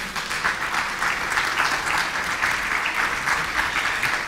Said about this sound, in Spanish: ¿Le podemos dar un aplauso al Señor,